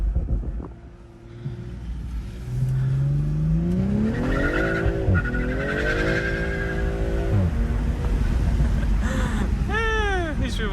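A BMW M340i drifts on a wet road in the rain, its engine revving hard through rising and falling pitch sweeps while the tires squeal and skid loudly, close by, with no talk over it.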